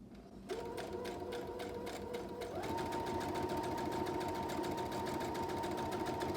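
A sewing machine stitches a fabric bag, its rapid rhythmic needle clatter starting after a brief pause and running steadily, rising slightly in pitch and speed partway through, close and clear with no talk.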